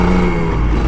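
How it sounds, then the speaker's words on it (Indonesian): Engine of an older Kawasaki Ninja RR 150 two-stroke motorcycle, revved in a steady, loud, continuous drone with a high-pitched edge, close by and with no voices. "Suara lengkingan motornya"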